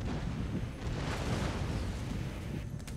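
Cannons firing a volley of canister shot in the strategy game Empire: Total War, a dense, continuous roar of layered booms and rumble that holds loud and steady, with a slight easing at the very end.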